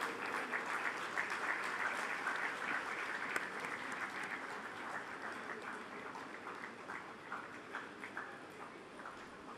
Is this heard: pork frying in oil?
no